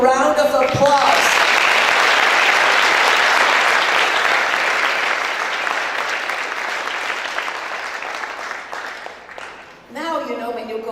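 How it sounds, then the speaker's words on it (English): Sustained loud applause from a large crowd at a graduation ceremony, clapping steadily before tapering off, with a voice briefly at the start and end. "would you please give them a big round of applause?"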